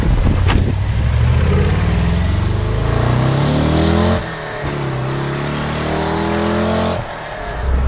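An old Rambler Ambassador wagon engine revs and pulls hard, a loud, steady drone whose pitch rises in stepped climbs through the gears, broken by brief dips where it eases off around the shift points.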